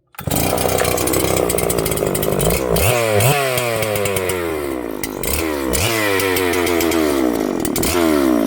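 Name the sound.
Husqvarna 562HTSS chainsaw running, testing bar oiling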